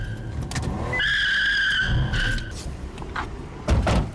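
Tires on a Nissan R34 Skyline break loose and skid, a sharp sustained screech lasting over a second amid nearby engine and road noise, followed by a short thump.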